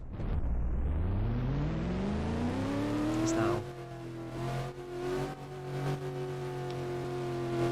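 A race car engine in a racing video game revs up through a long rising pitch, then drops and holds a steady high drone at close range, with a brief voice talking over it.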